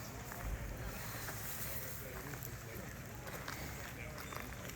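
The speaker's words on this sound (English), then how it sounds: "Riverboat." A riverboat on the Chena River near Fairbanks, Alaska, runs with a faint, continuous low engine rumble mixed with wind noise and soft background sounds.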